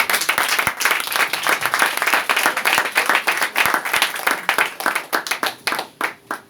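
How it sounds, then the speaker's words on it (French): Church congregation applauding and acclaiming the Lord, dense sustained clapping from many hands, loud and close, thinning slightly toward the end. "Est-ce qu'on peut acclamer le Seigneur?"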